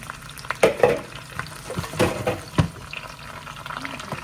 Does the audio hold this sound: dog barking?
no